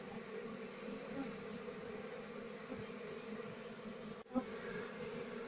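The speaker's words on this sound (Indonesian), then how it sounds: "Saat ini saya sedang melakukan pengasapan terhadap koloni lebahnya ini." Steady drone of an Apis cerana honeybee colony being smoked with cigarette smoke during a morning transfer to a hive box, continuous close buzzing with one brief thump near the end.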